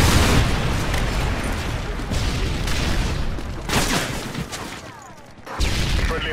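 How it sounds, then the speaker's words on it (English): A Predator missile strike in Call of Duty: Modern Warfare 3 on the Bakaara map rolls out as a loud, sustained rumble of booms and blasts. The rumble swells and fades, and a fresh burst comes near the end. "Friendly Predator missile inbound."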